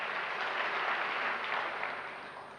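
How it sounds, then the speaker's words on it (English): An audience at an Africa Day lecture gives a steady round of applause, a broad even wash of many hands clapping that holds level and then eases slightly toward the end, with no talk over it. "Let's give her a round of applause as well."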